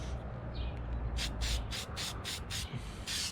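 Aerosol can spraying Satin Black rust guard paint onto a 1964 Ford Galaxie bumper area, a series of about seven short hissing bursts in steady rhythm, close and fairly loud, with no talking.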